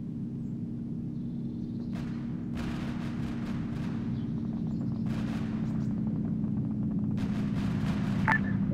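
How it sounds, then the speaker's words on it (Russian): Gunfire in the video game ArmA 3 sounds as scattered, sharp distant bursts over a constant low rumbling drone. "Альха, стрельба у тебя?"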